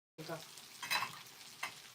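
Steady sizzling of liver frying in a pan, with soft stirring scrapes and a couple of louder hissing bursts, close and fairly quiet.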